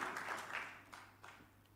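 Youth church audience gives a short burst of applause, moderately quiet and quickly fading within a couple of seconds, with a faint hum beneath.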